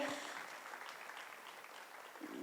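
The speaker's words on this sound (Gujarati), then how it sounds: "ગૌતમભાઈ ત્રિવેદીને આપણે સૌ જોરદાર તાળીઓથી અહીં વધાવીએ" An audience claps to welcome a guest onto the stage at a business budget review event in an auditorium, a steady, faint, distant patter of applause throughout.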